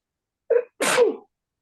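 A single sneeze sounds close and clear in a quiet room, a short sharp intake followed by a louder burst that trails off.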